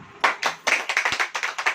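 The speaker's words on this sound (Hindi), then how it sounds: "मैं चाहता हूं कि हम सब मिलकर एक बार ताली बजाएं" A church congregation claps together during a Hindi sermon, about a dozen distinct, fairly close claps in an uneven quick rhythm with a brief pause between bursts.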